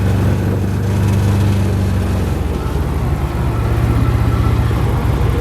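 A 2016 Can-Am Commander XT 1000 UTV engine drones steadily and close while riding over a small block, with a low rumbling tone that shifts pitch partway through as the throttle changes.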